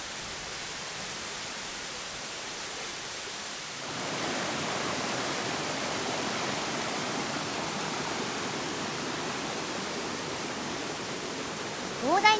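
Water rushes in a steady, dense hiss over rocks at a small tier of a tall multi-stage waterfall and its stream in Japan. The sound grows fuller and louder partway through.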